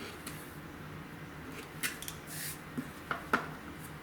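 Scissors snip thread nubs off pieced quilt fabric: a few quiet, sharp cuts spaced across a few seconds against a soft room hiss.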